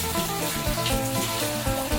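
Water poured off a container of collected water worms, heard as a continuous close splashing and trickling with uneven gurgling pulses throughout.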